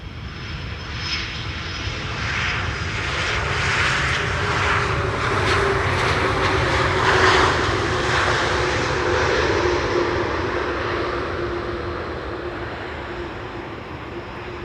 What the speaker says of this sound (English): Finnair outbound. Yep, I'm hearing it as we speak.